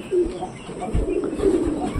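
Caged pigeons coo in low, repeated rumbling calls, with a few soft bird chirps mixed in, close by and moderately loud throughout.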